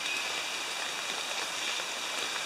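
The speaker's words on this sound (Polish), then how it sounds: "Strasznie leje cały dzień." Heavy rain pours down all day in a steady, dense hiss of falling water, moderately quiet and unbroken throughout, with no voices.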